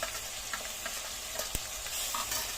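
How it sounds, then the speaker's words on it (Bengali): Turmeric, dried chili powder, Kashmiri red chili powder and salt sautéing in a pan give a steady close sizzle with scraping stirs and one sharp knock of the spoon midway. "ভালোভাবে মশলাকে কষিয়ে নিতে হবে, তাতে কোনোরকম মশলা কাঁচা গন্ধ না থাকে।"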